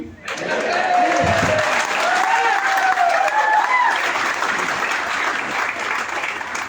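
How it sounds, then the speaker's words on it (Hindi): A meeting audience claps in a dense, steady wash that holds for several seconds, with a voice faintly audible underneath. "जब ये आईएमसी वाले ताली बजाने की बोलेंगे तो ताली"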